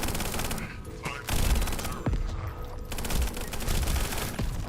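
Turret gunfire in the fast-paced shooter Echo Point Nova, loud rapid automatic bursts with sharp individual cracks, nearly continuous across the moment and without talk.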